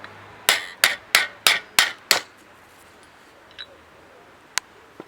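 A small brass hammer strikes a cutter die through sheet metal with six sharp, evenly spaced knocks, loud and close, followed by a quieter tap and one last sharp hit.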